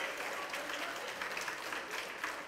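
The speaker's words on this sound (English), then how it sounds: "So let's give him a round of applause too." Soft, steady applause from a school ceremony audience honoring a citizen of the month, even, continuous clapping heard from a distance at low volume.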